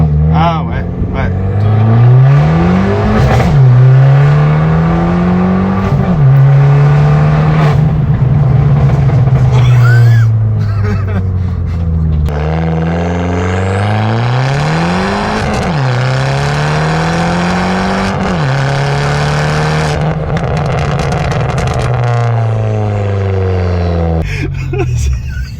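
A tuned Abarth 595 Turismo Stage 2 in sport mode revs hard through repeated rising gear pulls, its loud raspy engine note climbing, dropping at each shift and climbing again, heard from inside the car with occasional talk over it.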